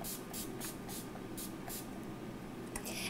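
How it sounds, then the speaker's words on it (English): Urban Decay De-Slick makeup setting spray misted across a face in a series of short, soft hissing bursts, about eight quick pumps in steady rhythm, close and fairly quiet over low background hum. "So just spray that across the face."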